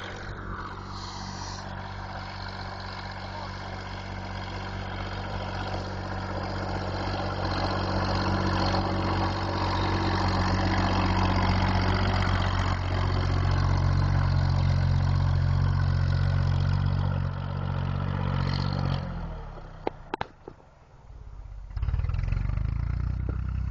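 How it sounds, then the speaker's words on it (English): A tractor truck engine runs hard through a hill climb at a competition, a loud steady drone that swells over most of the run, then drops off sharply near the end before roaring back. "tractor truck hill climb."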